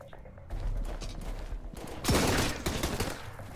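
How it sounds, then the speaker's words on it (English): Heavy machine gun fire in the survival game Sunkenland, a loud sustained burst of rapid shots with a sharper, louder blast near the end, heard close with no talking over it. "they have heavy machine gun"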